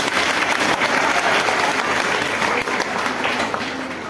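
An audience at a school talent award ceremony breaks into loud, dense applause that rolls on steadily for several seconds before easing slightly.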